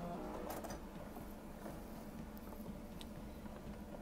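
A sewing machine running steadily with a hump jumper presser foot held down, producing a continuous close mechanical whir and patter of stitching throughout, with no talking.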